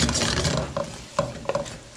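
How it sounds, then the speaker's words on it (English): Tomatoes and homemade gnocchi sizzling and frying in a pan, a steady close crackle with a few soft stirring clatters and scrapes over it. "then I add a few tomatoes to the pool here and just let this cook up"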